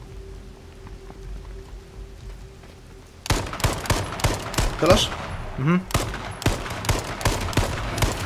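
Quiet at first, then a rapid series of sharp gunshots in bursts in the video game H1Z1, with brief voices speaking Polish between the shots.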